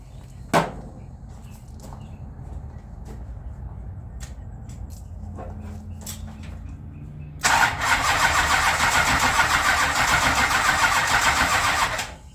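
A Roadrunner car engine cranks and tries to start after corroded carburetors, with a few short clicks and thumps first, then a loud, sustained cranking whir that runs for about five seconds.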